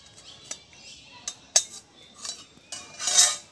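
Metal utensils clink and scrape against a cooking pot while hilsa and brinjal curry is poured out, with sharp scattered clinks and a louder scraping burst at the end, no talking.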